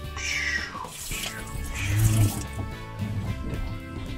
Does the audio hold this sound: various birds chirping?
no